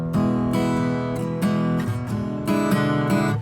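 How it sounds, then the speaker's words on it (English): An acoustic guitar is strummed repeatedly in a steady rhythm, bright and close, about six strokes in three seconds with no voices. "You could strum it if you wanted to."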